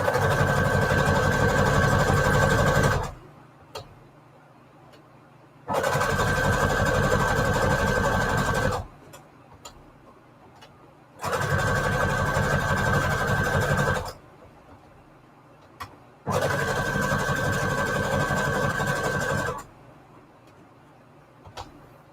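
A sewing machine stitches junk journal cards with brown thread, running in four steady bursts of about three seconds each, with short quiet pauses and small clicks between runs.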